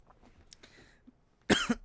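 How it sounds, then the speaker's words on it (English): A few faint throat sounds, then a burst of harsh, loud coughing close to the microphone. "you'll have to experience my coughs"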